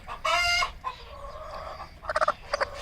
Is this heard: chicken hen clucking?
yes